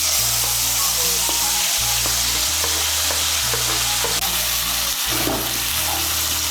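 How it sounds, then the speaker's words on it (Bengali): A paste of tomato, chili, garlic and ginger hits hot oil with a steady, loud sizzle that holds throughout, joined by a low humming drone and occasional scraping stirs. "এই পেস্টগুলো এখন আমি এর মধ্যে দিয়ে দিচ্ছি।"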